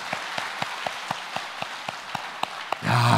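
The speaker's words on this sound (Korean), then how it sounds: "박수 한번 칠까요?" Evenly spaced, distinct claps from a church congregation at an anniversary gathering ring out in a steady beat for about three seconds before a louder, denser burst of sound takes over.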